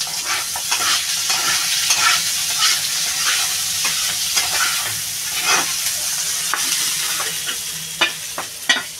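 Fish fries noisily in oil in a wok, with a dense, close sizzling hiss and sharp spattering crackles, punctuated by utensil scrapes and knocks as it is moved around, no talk.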